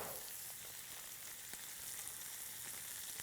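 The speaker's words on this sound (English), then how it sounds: "we're just going to warm them on the stovetop really gently, just to get some heat through them" Cooked radishes in flavored butter sizzle gently in a pan on a stovetop, a soft steady crackle with small pops, close and alone.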